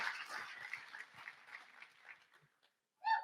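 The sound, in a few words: audience applause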